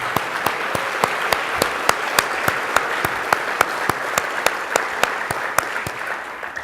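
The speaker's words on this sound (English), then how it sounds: "Just a round of applause for the Durker chapter." A convention audience at a SABR baseball gathering applauds the host chapter, a full room of steady clapping with one sharp, regular clap standing out close by, no speech over it.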